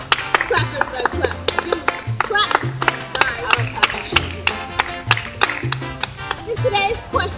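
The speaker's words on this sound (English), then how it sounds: "Clap, clap, clap, clap." Audience at the Carter school game show clapping in a steady, quick rhythm, sharp claps repeating evenly over a thumping music beat for several seconds.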